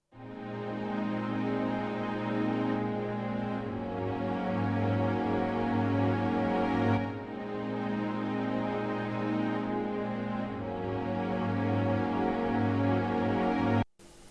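Sustained orchestral strings from an SRX Orchestra sample hold rich, steady chords for about fourteen seconds at an even loudness, then cut off abruptly near the end.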